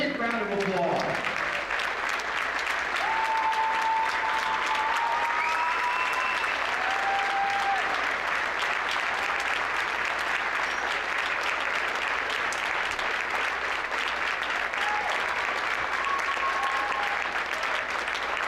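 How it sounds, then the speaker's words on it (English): A crowd in a high school gym at a junior varsity boys basketball game applauds seniors and parents, sustained loud clapping with a few cheers and whistles throughout. "Let's give all of these seniors and parents a big round of applause."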